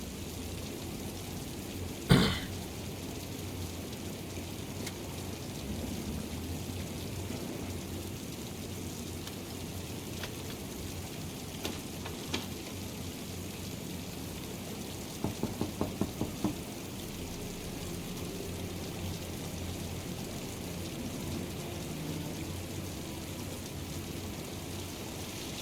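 Steady rain falls in the video game Heavy Rain, a constant close hiss with a sharp crack near the start and a brief cluster of light taps midway.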